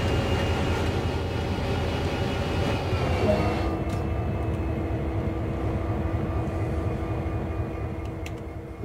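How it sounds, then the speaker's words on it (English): A heavy CSX locomotive in the railway game Train Sim World, giving a steady low diesel rumble with a sustained mechanical tone throughout, loud and continuous with no talking. "With the locomotive ready to be turned, activate the monitor and unlock the table."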